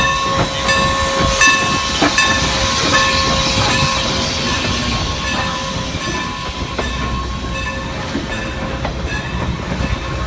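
A train moving into a station rolls steadily with a continuous rumble, hiss and metallic squeals, wheels clacking along the rails, loud and close, no voices.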